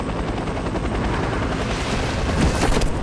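Helicopter in a video game, a loud continuous rotor thrum and engine roar filling the whole stretch without pause, with faint higher tones creeping in near the end.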